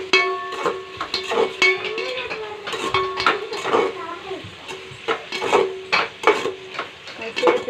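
Green chilies and biryani spices frying in a pan, a soft sizzle under repeated scraping and clinking stirs, with a voice humming or talking nearby.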